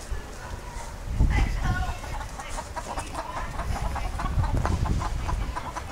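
Chickens cluck on a farm with fruit trees, their calls rising from about a second in and continuing over rustling, shuffling ambience at close to moderate range, with a voice heard in the scene.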